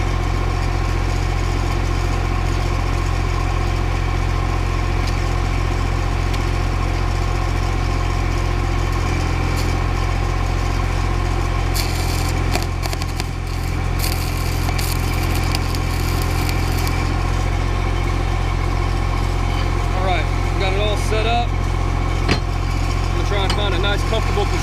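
An SA250 engine-driven welding machine runs at a steady idle for the whole stretch, a constant mid-to-low engine drone close by, with faint higher crackle and shifting noise in the second half that may come from welding.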